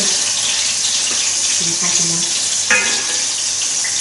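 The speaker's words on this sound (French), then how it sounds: "elle commence à s'énerver, l'huile" Apple fritters frying in hot oil give a steady, loud broadband hiss and crackle of bubbling fat that runs throughout, with a faint voice murmuring briefly in the middle.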